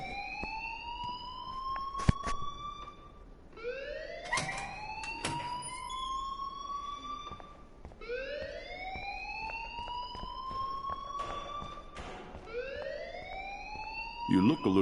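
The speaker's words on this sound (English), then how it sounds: "please turn off that alarm since that's your job" Electronic alarm in the game Life is Strange, wailing in repeated rising sweeps every couple of seconds, loud and continuous with brief knocks and clatter underneath.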